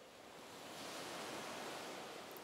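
Ocean waves used as a sample in a song intro give a steady wash of surf noise, soft and broad, swelling slightly with no other sounds on top.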